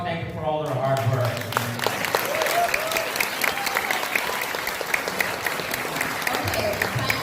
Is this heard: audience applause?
yes